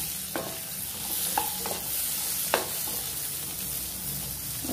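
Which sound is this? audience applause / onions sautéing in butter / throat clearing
onions sautéing in butter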